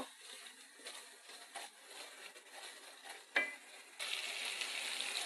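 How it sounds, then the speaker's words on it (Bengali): Spice paste sizzles in hot oil for a country chicken and potato curry, with a spoon scraping and clinking against the pot in irregular strokes, then a louder, steady frying hiss near the end. "এখন আমি এটাকে ভালো করে কষিয়ে নেব"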